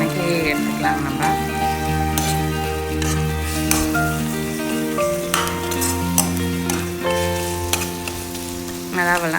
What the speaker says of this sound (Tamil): இப்போது 1/4 ஸ்பூன் போட்டிருக்கேங்க நான் இஞ்சி பூண்டு பேஸ்ட்டு. இதையும் வணக்கி எடுத்துக்கலாம்.